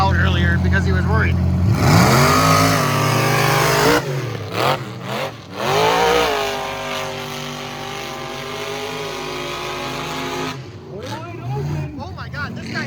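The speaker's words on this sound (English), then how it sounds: "these mud trucks are freaking full sending it" Mud trucks at the Michigan Mud Jam rev hard and tear through a mud pit, loud engine roars rising and falling in pitch, with a crowd talking and shouting over them.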